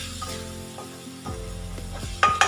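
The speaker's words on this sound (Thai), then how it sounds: "ก็ทำการผัดผัดให้เข้ากันดีเลยนะครับ" Minced pork with Thai basil seasoning being stir-fried for pad kra pao: a close, steady sizzle with a few sharp scrapes and clacks of a spatula against the pan near the end.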